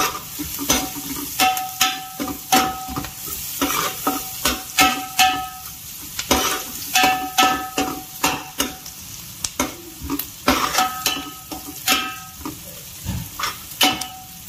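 Spices with turmeric frying in a pan for fish curry, a close, constant sizzle broken by a steady run of scraping stirring strokes and light utensil clinks against the pan, with no speech.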